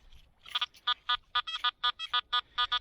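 A metal detector sweeping a beach gives a run of about ten short, bright electronic beeps in a steady rhythm, close and fairly quiet, with faint rumble underneath.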